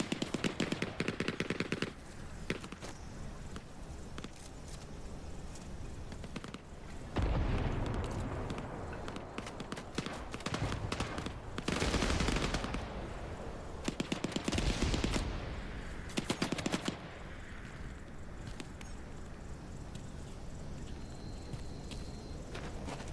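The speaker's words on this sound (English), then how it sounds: "Like some MG suppression going on." Bursts of machine gun suppressing fire in the Vietnam War shooter Hell Let Loose Vietnam, rattling in several separate volleys with quieter gunfire and battle noise in between.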